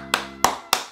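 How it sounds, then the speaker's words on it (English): Three separate sharp hand claps, evenly spaced and close, each a crisp slap standing out against a quiet background hum. "A hand of applause"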